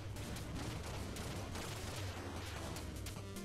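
Dense, continuous combat noise from the video game Shovel Knight: Plague of Shadows on Wii U, with rumbling explosions and rapid gunfire-like crackle, loud and unbroken throughout.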